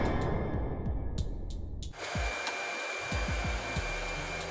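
A hair dryer blows on hair after towel drying, a loud, steady whoosh up close. Partway through, the airflow cuts out briefly and then comes back stronger, with soft thumps of handling underneath.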